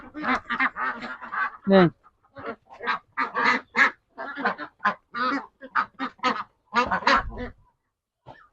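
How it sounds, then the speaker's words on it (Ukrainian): Ducks quack loudly and steadily up close, many overlapping calls packed into rapid bursts with short gaps. "Качки вони такі і є, це бачите."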